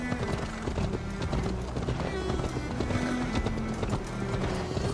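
A horse in a video game clip-clops along in a steady, brisk rhythm of hoofbeats that runs the whole time over a constant background bed, close and moderately loud.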